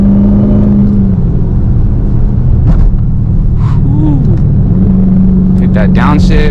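Dodge Charger SRT Hellcat with a 717 hp engine, driven on city streets, drones steadily at a constant pitch, dips as it downshifts, then rises again close by with a continuous throaty rumble, while a voice speaks briefly over it.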